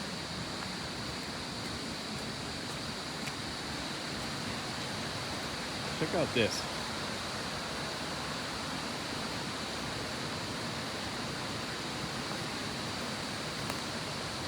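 A steady, broadband rush of falling water from a 25-foot waterfall in a rainforest in Trece Martires City, constant and moderately distant, with a brief voice speaking partway through.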